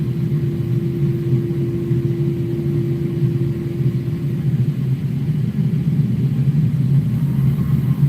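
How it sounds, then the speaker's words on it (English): Engines of a United Airbus A320 in Microsoft Flight Simulator 2020 drone as a steady low rumble with a constant hum on top, unchanging and loud for the whole stretch. "you can hear the engines too, it's so bad"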